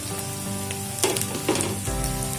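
Onion and tomato fry in a pan of chicken pasta, a close, continuous sizzle with a couple of louder bursts as the pieces land or get stirred, and no talking.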